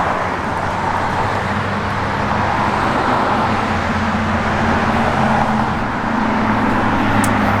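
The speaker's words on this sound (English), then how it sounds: "It's got a just awesome sounding dual exhaust system in it." A 1967 Dodge Dart GT with a dual exhaust system idles steadily, its deep rumble loud and close and continuing without a break and without talk.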